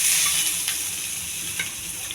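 Chopped onions and cashews fry in ghee, giving a steady, bright sizzle throughout with faint stirring clinks, close and continuous with no voices.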